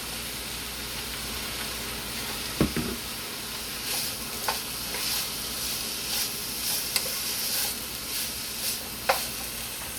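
Broccoli sizzles in hot olive oil in a pan while a utensil stirs it. A steady frying hiss runs throughout, broken by a few sharp scrapes and clicks from the stirring, close and moderately loud.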